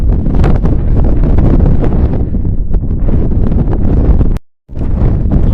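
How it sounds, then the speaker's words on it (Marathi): Strong, cold wind buffets the microphone in loud, rough gusts on Rangana hill fort in the evening, with a brief silent drop near the end before the blustering resumes. "वारा कसा मस्त थंडगार वारा सुटलेला आहे"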